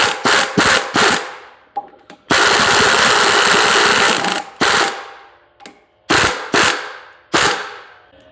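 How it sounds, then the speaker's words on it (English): An Onyx Astro 1822 half-inch drive impact wrench with a 3/4 inch socket fires in loud, close, rapid hammering bursts. One long run lasts about two seconds, with shorter rattling hits around it, during a Kubota hydraulic cylinder reseal. "This time I'm going to use my Onyx Astro 1822 half-inch drive impact with my 3/4 inch socket."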